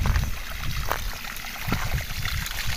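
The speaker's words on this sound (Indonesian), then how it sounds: "Itu di sana ada Pak Agus sedang siram." Water trickling and splashing as durian trees are hand-watered outdoors in the midday heat, a soft, continuous gurgle with faint low background rumble and no talk.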